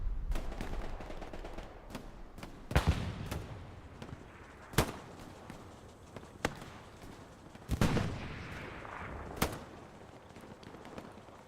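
Distant rockets and artillery rumble through a World War II battle in Hell Let Loose on the Foy map, with sharp blasts and thuds at irregular intervals over a constant low roar of gunfire.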